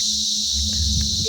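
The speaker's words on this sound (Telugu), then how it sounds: "మిడతలు అరుపులు" A chorus of crickets chirps at night near Haridwar, forming a loud, constant shrill drone. Faint low rumbles sit beneath it.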